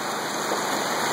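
A Washington creek flows strongly, a dense, loud and steady rush of water with no pauses.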